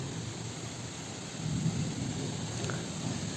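A sudden Kalbaisakhi storm sweeps through a village, heavy rain and gusting wind forming a dense steady roar, slightly swelling midway, with no voices.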